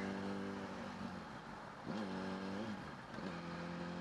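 A supermoto motorcycle engine revs up, drops back, and rises again in quick throttle blips, heard steadily from close by as the rider pulls away and accelerates.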